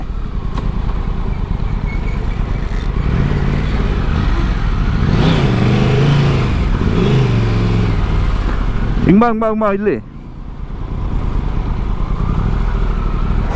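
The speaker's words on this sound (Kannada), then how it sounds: "ಸೊ ನೋಡಿ A D V bike advantages ಇವೆಲ್ಲ ಎಲ್ಲಿ ಗ್ಯಾಪ್ ಸಿಕ್ಕಿದ್ರೆ ಅಲ್ಲಿ ನುಗ್ಗಿಸ್ಬಿಡ್ಬೋದು" An ADV motorcycle weaves through city traffic with a continuous engine drone and surrounding road noise, and a short honk-like tone cuts in near the end while a rider talks over it.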